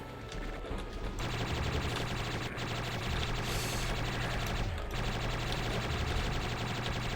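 Gunfire in a video game fight against a Revenant, dense continuous loud shooting with a few brief breaks, close and unbroken, no voices over it.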